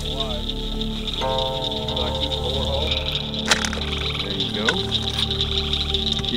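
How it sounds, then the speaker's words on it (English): A frog croaks steadily in the background outdoors, a continuous rhythmic croaking heard while people talk over it in the foreground. "that's a dang gum good frog right there"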